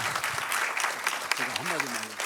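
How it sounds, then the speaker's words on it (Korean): Applause from a conference audience rises steadily as hands clap together in a dense, sustained patter, while a voice talks over it near the end. "다시 한번 박수 좀 보내주시겠습니까?"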